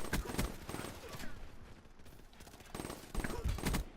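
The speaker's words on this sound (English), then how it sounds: "some very crispy shots from Crisis" Gunfire in the online match game Call of Duty: WWII: dense, crackling bursts of shots near the start and again toward the end, with a busier, noisy stretch between them.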